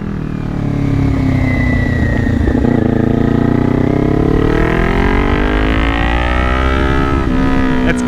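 A Kawasaki Ninja 400 sport bike pulls away at night, its engine revving up through rising, gliding pitches as it shifts and accelerates, loud and close with continuous wind noise.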